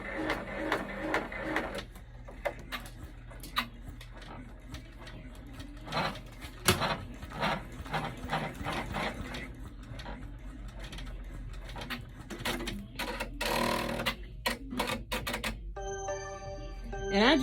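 An embroidery machine sews a placement stitch for an in-the-hoop bag, giving an uneven sequence of fairly quiet mechanical clicks and stitching bursts with short gaps, and a rhythmic electronic beeping at the end.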